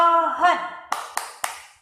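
A woman's sung or chanted word is followed by three crisp hand claps in steady rhythm, part of a children's tree clapping game, close and clear.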